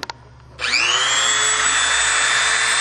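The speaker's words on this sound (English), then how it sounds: "we're just using a standard Dremel. I'm using a small cutting burr to drill the hole in the bottom here." A standard Dremel rotary tool fitted with a small cutting burr spins up to a loud, steady high-pitched whine while boring a hole in the bottom of a ring, running close and alone after a couple of brief clicks.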